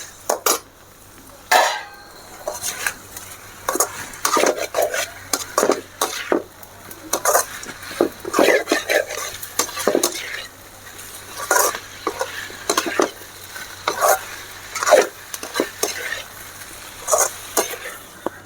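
Fried egg pieces are stir-fried with onion and capsicum in a pan, with repeated clinking spatula strokes against the metal over a soft, continuous sizzle and no voices.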